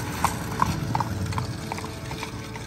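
Horse hooves clip-clop on a hard surface in a steady rhythm, close by, over a low background rumble.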